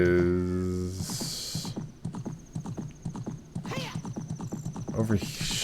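In Zelda: Ocarina of Time, a horse whinnies loudly at the start, then its hooves clip-clop in a steady rhythm under a person speaking, with another short whinny near the end.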